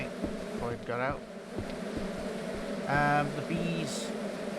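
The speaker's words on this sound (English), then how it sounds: "The bees are busy" Bees buzz steadily around hive pods on a farm in the video game Ranch Simulator, a continuous insect drone running through the whole stretch while someone talks over it at intervals.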